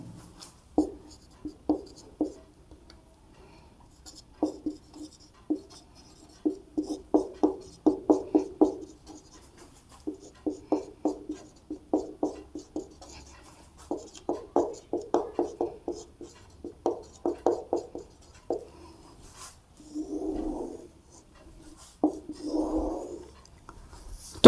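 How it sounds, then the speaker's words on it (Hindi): Pen writing a maths formula on paper, close and crisp, with short bursts of scratchy strokes separated by brief pauses, ending in two slower rubbing strokes. "तो इसका सूत्र मैं एबीसी के रूप में लिख देता हूं।"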